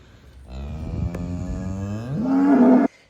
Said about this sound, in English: So this is the other calf out the same bull.